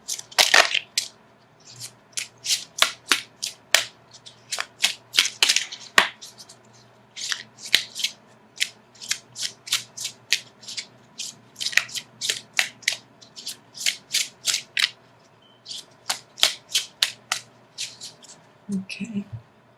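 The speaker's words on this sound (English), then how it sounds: "So let me shuffle for an outcome card." Tarot cards are shuffled by hand in quick, crisp bursts of riffling and slapping, close and fairly loud, repeating in irregular groups with brief pauses and no talking.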